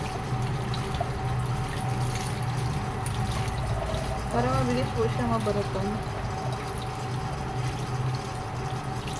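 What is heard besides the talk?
running tap water over grilled eggplant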